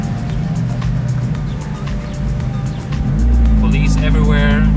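Gumpert sports car turning right and driving past on a Monaco street amid traffic, a loud, close engine roar building toward the end with tire noise, while people talk over it.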